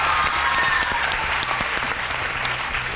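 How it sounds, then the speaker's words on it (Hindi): Steady, dense applause from a studio audience on a televised Pakistani game show, a continuous wash of many hands clapping at once, loud and full throughout. "सो अपने लिए भी तालियाँ होनी चाहिए।"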